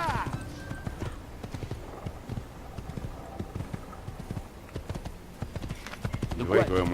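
Horse hooves clip-clop steadily over a continuous background, with a horse whinnying near the end, in the video game Assassin's Creed.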